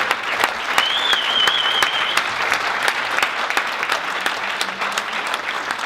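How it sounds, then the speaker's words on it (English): A round of applause at a startup conversation event, with dense, loud clapping from a crowd and a sharp whistle rising over it early on, holding steady for several seconds. "Give these men a round of applause"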